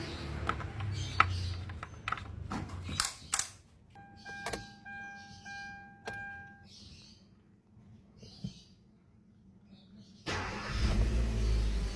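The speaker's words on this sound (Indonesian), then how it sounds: "Ini kita flush engine-nya selama 10 menit ya, nggak boleh lebih dan nggak boleh digas" A Kia Rio engine idles without throttle during an engine flush service, a low steady hum with scattered clanks, short beeping tones and knocks around it, swelling into a louder broadband roar near the end.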